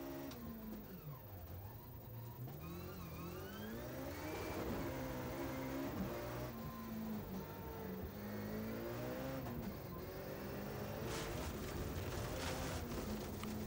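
A Ford Escort RS2000 T16 4x4 rally car engine, heard from onboard, rises and falls through rapid sequential gear shifts, revving hard in repeated climbs and drops, steady and fairly loud throughout.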